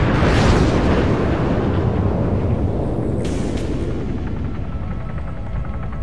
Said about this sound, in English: One of the planes just collided with it!